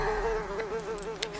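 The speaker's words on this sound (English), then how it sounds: "It's a bee, Mr. Beetle." A bee buzzes steadily and close by, its drone wavering in pitch for the whole moment with no voices over it.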